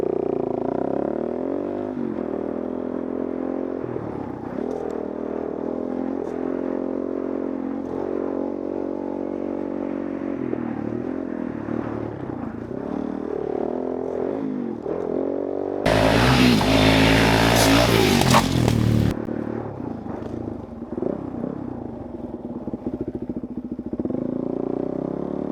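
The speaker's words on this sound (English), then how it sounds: "you can hear my bike going" A motorcycle engine runs steadily while riding toward a jump run in South Carolina, a continuous near drone with a brief louder burst of wind or revving partway through.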